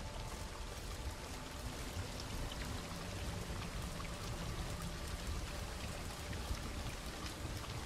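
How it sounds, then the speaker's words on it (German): Steady rushing water flowing upward inside a cave in Witcher 3: Blood and Wine, a continuous dense splashing hiss like heavy rain pouring, even and unbroken throughout. "Das Wasser fließt hier definitiv nach oben."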